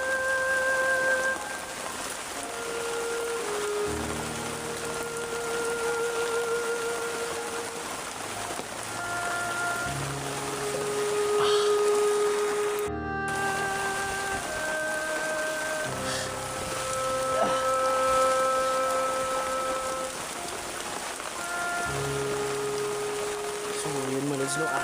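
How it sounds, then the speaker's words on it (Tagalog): Heavy rain pours down in a dense, steady hiss that goes on throughout, with scattered tonal whistles and sounds drifting over the downpour. "Grabe yung ulan."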